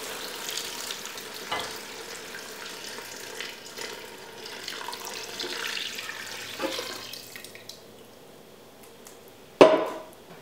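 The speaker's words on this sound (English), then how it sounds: "we can add our broth" Broth pours into a pot of Vietnamese beef stew with tomato paste, spices, meat and vegetables, a soft continuous liquid splash and faint sizzle, ending in a brief sharp clink.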